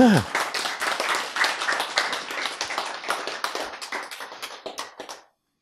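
Brisk, dense clapping from a lecture audience fills nearly the whole stretch, steady and close, then cuts off abruptly near the end.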